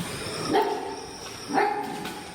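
Two barks from a thin, malnourished stray dog near an abandoned municipal building by a highway, moderately close, with a short pause between them over steady background hiss.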